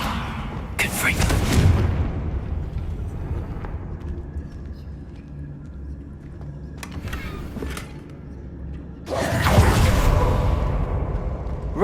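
Spell blasts from the Confringo fire spell in the video game Hogwarts Legacy, two loud broadband bursts with a fainter one between, standing out against a low rumbling game soundscape.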